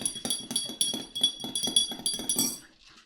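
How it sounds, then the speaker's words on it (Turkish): A spoon stirs tea in a glass with quick, regular clinks, about a dozen bright taps in steady rhythm, close and fairly quiet, before stopping. "Çayımı da karıştırayım."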